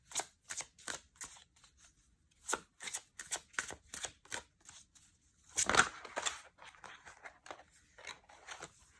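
Tarot cards being shuffled by hand, quiet and close, with many short crisp riffles and taps in uneven bursts and a longer flurry partway through.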